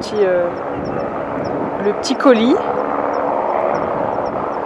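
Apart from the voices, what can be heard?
helicopter resupplying a mountain refuge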